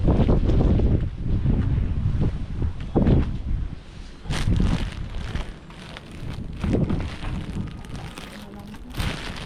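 Strong gusts of wind buffet the microphone outdoors, loud rushing bursts that swell and ease unevenly, with people talking faintly underneath.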